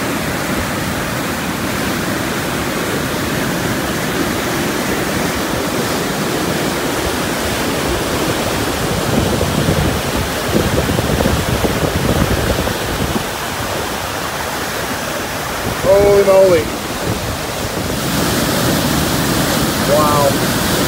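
Water rushing through Mistaya Canyon, a loud, dense roar of churning whitewater that holds steady throughout, with a brief exclamation from a voice near the end.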